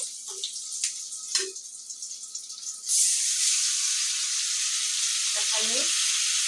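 For a chicken curry, meat and spices fry in a pan: gentle sizzling with a few utensil knocks and stirring, then a sudden, louder, steady hiss takes over for the second half, with no talking.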